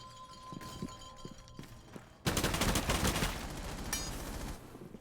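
Gunfire during an esports match of a tactical shooter: a quieter stretch with a few spaced shots, then a loud sustained burst of rapid close fire that continues for several seconds.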